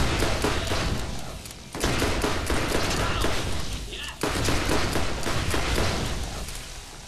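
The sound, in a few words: gunfire from the video game Borderlands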